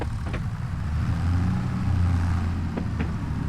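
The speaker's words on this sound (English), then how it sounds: "I will say I missed the sound of this tractor." A Case International tractor in a farming video game idles with a steady, deep diesel rumble that swells slightly midway, accompanied by a few faint clicks over the continuous drone.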